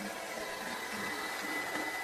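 A hair dryer runs with a steady, loud whooshing motor hum and broad hiss, continuously without change.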